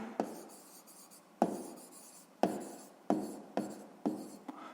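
Pen writing an answer on paper for a sixth-grade math exercise, close scratchy strokes in several short bursts, each starting with a tap, with no speech.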